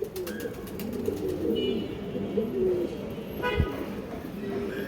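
A female pigeon cooing softly at a pigeon breeder's farm, a low murmuring coo under a faint background hum, with a short distant horn-like toot near the end.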